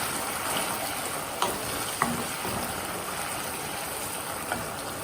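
Honey chilli potatoes frying in a pan, a continuous loud bright sizzle with a few sharp clicks of stirring utensils against the pan, heard alone without speech.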